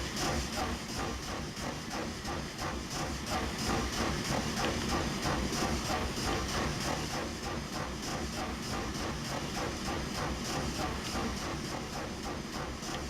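A KEB2 steam locomotive in the video game Transport Fever runs with a steady, rapid chuffing beat over hissing steam and track rumble, continuous and moderately loud throughout.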